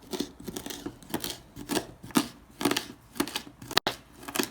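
A knife chops fresh thyme on a board in a series of quick, sharp, irregular cuts, close and fairly clear, with no voices.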